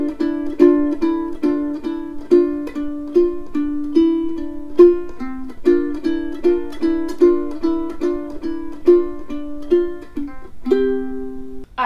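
A ukulele plays the original version of the ending of a song from The Witcher, a bright, rhythmic strummed pattern with steady repeated chords, clear and close, winding down to a final strum.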